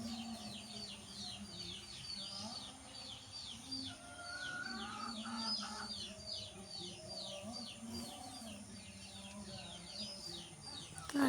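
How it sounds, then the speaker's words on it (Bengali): Many small birds chirp and call together on a morning gathering to eat puffed rice and biscuits, a steady, busy chorus of overlapping tweets at moderate distance with some lower calls mixed in. "দেখো বন্ধুরা, সকালবেলা আমাদের কত পাখি এসেছে।"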